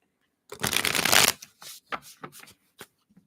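Reading cards are given a big riffle shuffle up close: a loud burst of rapid flapping, followed by several shorter taps and card slides.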